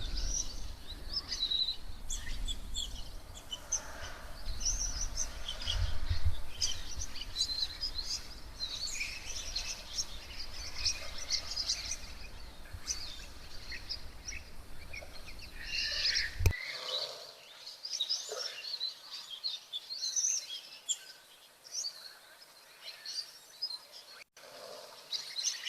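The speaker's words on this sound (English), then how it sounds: "It does look like they are wattled starlings in mass." A flock of wattled starlings calls at a waterhole, a busy chorus of thin chirps and squeaky chatter at moderate distance, continuing after a low background rumble abruptly drops out.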